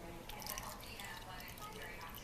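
A martini-style holiday cocktail is poured into a glass, giving a soft, steady trickle and splash of liquid that runs for a couple of seconds at close range.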